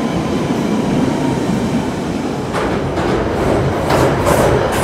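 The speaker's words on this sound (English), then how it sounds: "So, we're on London Underground." A London Underground train in motion, a steady loud rumble of wheels and carriage noise throughout with brief rising rattles and squeals toward the end, no talking.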